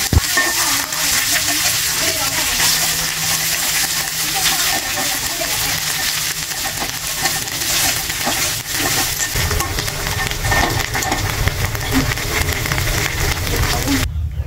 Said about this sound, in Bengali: এবারে এর মধ্যে লাই পাতাগুলো দিয়ে ভালোভাবে পেঁয়াজের সঙ্গে লাই পাতাটা মিশিয়ে নেব।